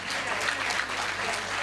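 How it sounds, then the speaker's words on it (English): An audience at a medical education conference applauds volunteers on stage, with steady, continuous clapping from many hands throughout. "You are getting the maximum number of claps now."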